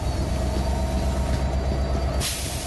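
A train rumbling along in the Scarfall 2.0 mobile game, a loud steady rolling drone with a hissing burst near the end and no voices.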